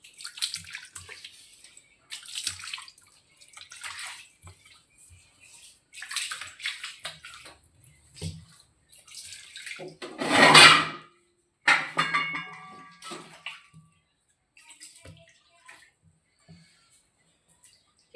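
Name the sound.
washing the kitchen floor with water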